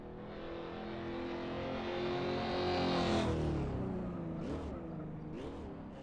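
Racing car engine in a sim racing game on a bumpy section of a modded track, a steady rising roar that peaks and then drops with brief revving blips as it shifts up to fifth.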